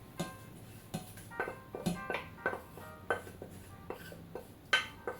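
Manioc leaves (pondu) going into a cooking pot, marked by a series of light metallic clinks and knocks of a utensil against the pot at an irregular pace, close and fairly quiet.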